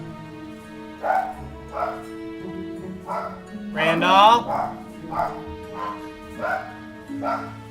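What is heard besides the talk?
dog barking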